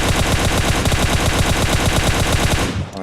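Rapid automatic gunfire in a video game, a continuous loud burst of evenly spaced shots lasting nearly three seconds before stopping abruptly.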